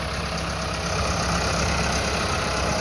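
A Massey Ferguson 375 tractor engine idles with a steady, even diesel rumble, close and constant for the whole stretch, with no talk over it.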